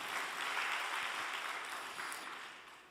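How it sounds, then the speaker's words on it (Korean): An audience at a church retreat applauds the pastor's wife, a fairly faint, steady round of clapping that slowly tapers off toward the end. "정말 고생하시는 우리 사모님께 격려와 감사의 박수 부탁드리겠습니다"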